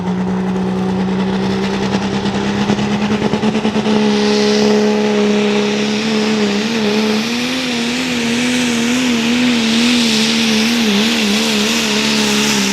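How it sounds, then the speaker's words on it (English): A diesel pickup truck known as the Rock Diesel, from Eagle, Wisconsin, revs hard during a truck-pulling competition. The engine gives a loud, sustained roar that builds and then holds a wavering high drone, close and alone. "The Eagle, Wisconsin truck, they call it the Rock Diesel, Mr. Ben Schiff."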